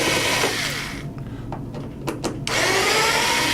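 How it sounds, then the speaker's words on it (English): Power screwdriver loosening screws from the embedded screw bosses inside a pontoon, a steady whirring motor hum that drops out briefly in the middle with a few short bursts before running on again, close and loud. "then you just go and loosen all of the screws in the embedded screw bosses inside the pontoon like this"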